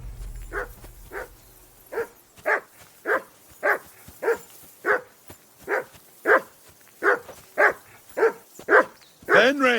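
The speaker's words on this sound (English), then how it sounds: "Call off that mutt of yours!" A dog in Kingdom Come: Deliverance II barks in a steady run of about fifteen sharp, evenly spaced woofs, loud and close, with a low rumble at the start and no talk over it.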